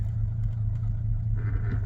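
A Rover P4 110 2.6 saloon's engine idling steadily just after firing up, a low continuous rumble heard close by with a slight rise near the end.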